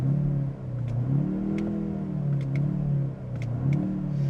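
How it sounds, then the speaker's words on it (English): A 2025 BMW M235 Gran Coupe engine in sport mode revs up and settles back repeatedly, a steady mid-pitched rumble heard from inside the cabin with a few faint clicks and no talking. "When you switch it into sport mode, you definitely notice the engine will rev up"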